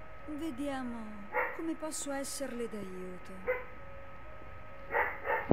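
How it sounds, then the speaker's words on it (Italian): A real dog barks and yips in the background in a few short bursts, fairly faint, while a voice from an Evil Within 2 game speaks over it. "Vi chiedo scusa per il cane che abbaia"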